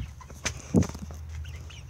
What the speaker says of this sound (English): going to show you baby chickers. Probably hear them.